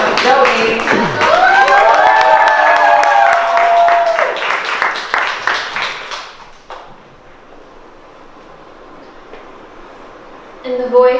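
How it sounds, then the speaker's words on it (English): Cheering and applause greet a poet at a youth poetry showcase, loud and lively with whoops and calls, fading after a few seconds into a quiet room before a brief burst near the end. "I need y'all to start making noise, applause for the poet Zoe"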